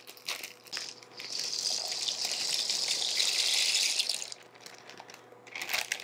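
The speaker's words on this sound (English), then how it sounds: "We're gonna add the noodles to our boiling water." Twelve ounces of dry pasta shells pour into a pot of boiling water, making a steady rushing, crinkling hiss that swells for about three seconds and then trails off, close and moderately loud with no talking.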